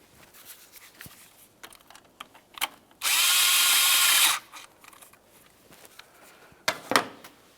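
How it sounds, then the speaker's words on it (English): An 8mm socket works a throttle body clamp on a 2003-2011 Mercury Grand Marquis. It gives a single steady whirring burst of about a second and a half, close by, framed by scattered light clicks and taps. "Now we can move along to using an 8mm socket or a flathead screwdriver to loosen this clamp"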